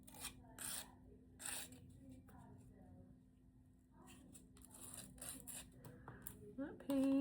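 A small file scrapes burrs off a craft piece in short scratchy bursts, close and fairly quiet, with a steady low hum underneath and a brief squeak near the end.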